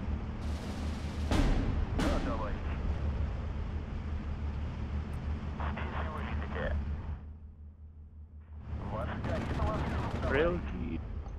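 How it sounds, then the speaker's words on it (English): Heavy cannon fire in a video game tank battle: two sharp booming blasts early, followed by sustained rumbling gunfire and engine noise, a brief lull, then more loud firing. "It's being shot by the big cannon."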